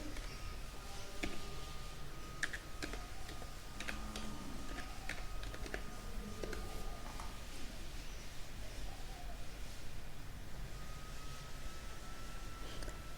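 Computer keyboard typing a database search, scattered quick key clicks over a steady background hum, fairly soft and close, with no voice.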